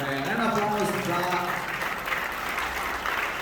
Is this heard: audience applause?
yes